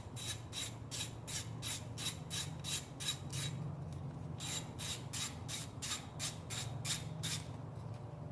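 A ratchet works a 10mm ignition coil bolt loose on a 2008–2012 Chevrolet Malibu engine, two runs of quick, evenly spaced clicks with a short pause between, over a low steady background hum.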